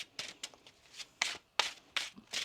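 Tarot cards being shuffled by hand in a series of crisp, papery riffles and slides, about six quick bursts in close, quiet succession with no voices.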